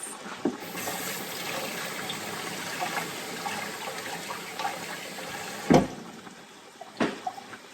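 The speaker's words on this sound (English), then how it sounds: "I'm gonna rinse off my hands." Hands rinsed under a running kitchen tap, a steady soft stream of water with a couple of brief louder splashes near the end, no voices.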